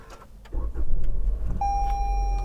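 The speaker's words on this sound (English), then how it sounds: "As soon as the engine started." A Toyota Camry with a steering fault cranks and its engine catches after a short whir, settling into a steady close idle, with a high electronic warning tone sounding from about midway on.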